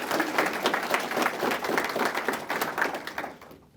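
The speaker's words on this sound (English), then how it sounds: "A round of applause again for them." Audience applause for police officers at a Pasadena police awards ceremony, dense sustained clapping from a crowd that carries on steadily for a few seconds before tapering off at the end.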